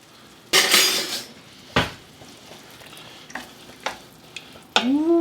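Tomatoes go into a pot for a vegan Chinese chili, making a sudden wet sizzle and splash, followed by stirring scrapes and a few clinks of a utensil against the pan.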